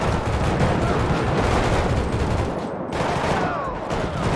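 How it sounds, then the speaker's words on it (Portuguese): Dense, continuous rifle gunfire in GTA V during a gang war, rapid overlapping shots forming a loud fusillade with little pause. "e esse fuzil que tá na gangue, ele é bom, viu, galera? Muito bom mesmo."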